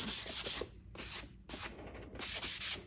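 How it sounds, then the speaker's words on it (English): Light rhythmic sanding strokes rasp over a waxed, chalk-painted cabinet surface, close up, in short bursts with brief pauses between passes. "I'm sanding over the wax. But lightly."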